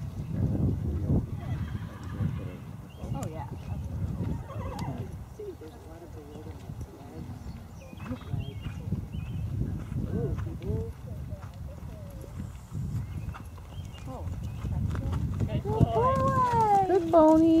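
A pony walks with hooves clopping steadily and whinnies clearly near the end, with people speaking softly throughout.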